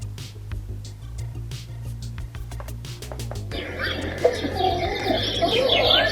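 Birds chirp and twitter over a low electronic hum from a portable white noise sleep machine, the birdsong growing fuller and busier halfway through, played back fairly loud.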